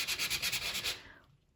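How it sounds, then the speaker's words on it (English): A sanding block rubbed back and forth over a papercraft card surface to reveal snowflake shapes, about nine quick scratchy strokes in a steady rhythm, close and quiet, fading away at the end. "I'm going to go ahead and just sand this off so that the snowflakes kind of show."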